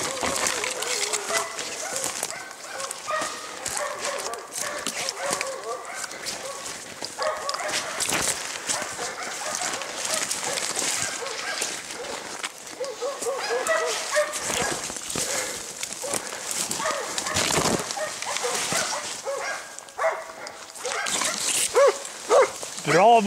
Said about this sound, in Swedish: mina hundar står och skäller